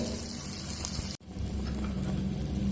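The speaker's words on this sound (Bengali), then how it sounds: "দেখুন এটা আমি খুব সুন্দর করে ভেজে নিয়েছি" Curry leaves frying in melted butter in a pan give a steady, soft sizzle throughout, with a brief drop-out partway through.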